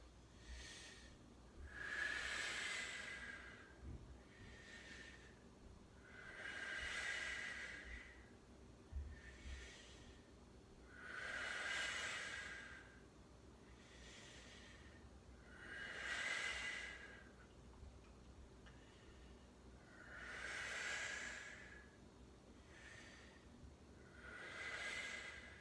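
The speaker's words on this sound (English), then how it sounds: "10 full breaths" Slow, deep breaths during a seated hip and hamstring stretch, each inhale and exhale a soft airy hiss repeating at a steady, unhurried rhythm, faint and close with no talking.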